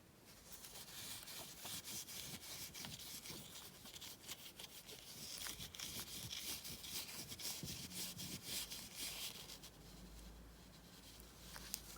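A silver polishing cloth is rubbed over tarnished jewellery, giving soft, close, continuous scratchy friction strokes at a quiet level.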